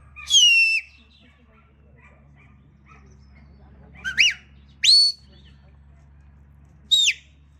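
A shepherd's few sharp, high whistle commands to a sheepdog sound at intervals, one early and three later in quick succession, loud against a quiet, low hum.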